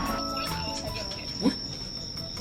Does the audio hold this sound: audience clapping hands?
no